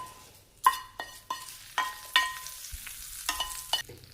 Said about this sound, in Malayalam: കടുക് വറുത്തത് കറിയിലേക്ക് ചേർക്കാം.